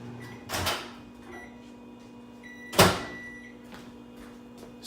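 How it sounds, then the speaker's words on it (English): A microwave oven runs with a steady, low electrical hum through the whole stretch, broken by two sharp knocks or clunks, like a door or cupboard, near the start and middle. "So we're gonna throw this in the microwave right now."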